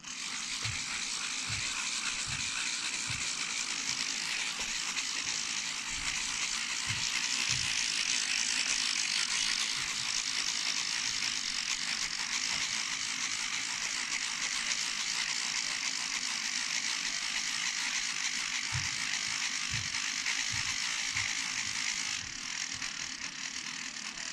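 A hand winder is cranked to wind the rubber motor of an indoor model plane, giving a steady, faint ratcheting whir with soft clicks throughout, recorded in a quiet hall.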